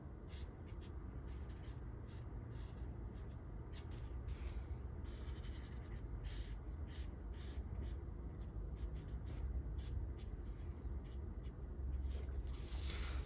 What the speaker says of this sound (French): Et on vient colorier ici la partie inférieure.